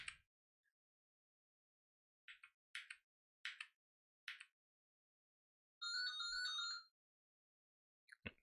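A phone ringtone plays quietly as a few short electronic chirps, then one sustained warbling tone, then a final chirp. Silence falls between the bursts.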